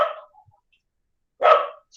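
A single dog barks twice, short sharp woofs about a second and a half apart, fairly close and clear with silence between them.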